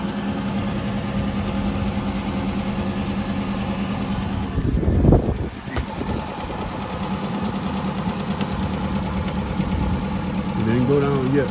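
A 2013 Nissan Sentra SV idles with a steady, uneven engine drone and a bad misfire, heard up close and continuously, with a brief louder disturbance partway through and people talking over it.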